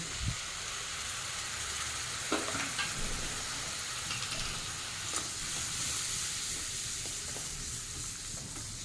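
Spice paste for a prawn tel jhal frying on a low flame with whisked yogurt, giving a steady close sizzle with occasional light clinks of a spoon against the pan.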